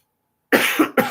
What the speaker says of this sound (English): Sorry, I don't know why I'm coughing.